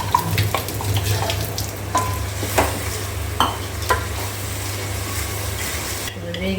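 Ground masala frying with softened onion and tomato for a spicy chicken curry: a continuous close sizzle with repeated scraping stirs, and a brief quieter pause near the end.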